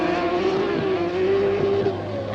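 A rally car on a stage rally run with a grandstand: a steady, loud engine note held at high revs as the car drives past, with a slight change in pitch toward the end.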